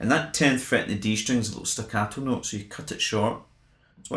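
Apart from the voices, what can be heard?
None of the usual background noises is heard.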